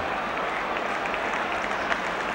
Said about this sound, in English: but the crowd applaud nonetheless